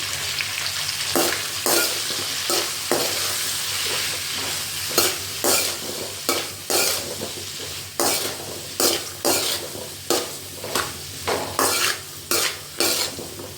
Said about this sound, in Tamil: இந்த மசாலா எல்லா சைட்லேயும் கலர்ற மாதிரி நல்லா பரட்டி விட்டுக்கோங்க